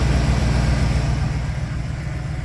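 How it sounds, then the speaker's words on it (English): A camper van's engine idles smoothly after an exhaust repair, with no leaks: a close, steady low rumble that stays even throughout, with no other sounds. "the exhaust is back in, and you ready for this? Oh, whisper, quiet, no exhaust leaks."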